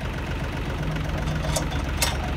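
A Mahindra Arjun 555 tractor idles at night with a steady, loud low rumble, a couple of short hissing bursts cutting in near the end and no talking.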